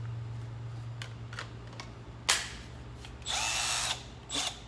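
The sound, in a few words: Milwaukee M12 impact ratchet running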